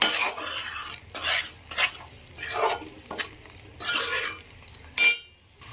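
Spice masala for fish curry gets stirred and fried in a pan, with repeated scraping strokes of a utensil against metal in bursts over a soft sizzle, close and without talk.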